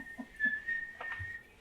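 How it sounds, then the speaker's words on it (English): A whistle sounds as a thin, steady high tone held for about a second, faint and alone with a little soft background noise. "I was gonna wait to blow the whistle, but I think I'll be blowing the whistle now."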